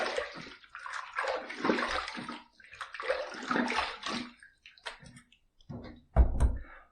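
Water splashes and runs in repeated bursts as a face is rinsed at a sink after a wet shave, the sloshing close and loud with short pauses between handfuls and a heavier splash near the end.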